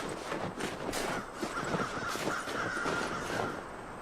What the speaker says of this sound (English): Crows circling up ahead.